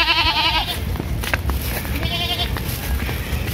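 Goats bleat loudly near a riverside in quick wavering calls at the start, with another bleat midway over steady outdoor background noise.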